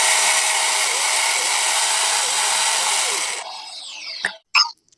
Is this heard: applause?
no